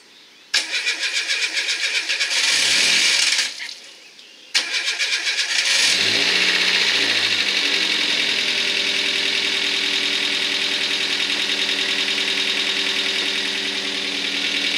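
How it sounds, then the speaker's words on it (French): Renault Clio 1.2L petrol engine, run with no oil or coolant, cranks with a starter whir, stalls, cranks again and catches, then settles into a steady loud idle, heard close with no talk. "on va faire tourner le moteur jusqu'à temps qu'il claque"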